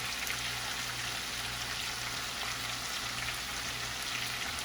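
Salmon frying in a pan gives a steady, dense sizzle like light rain, constant and even throughout, close by with no talking.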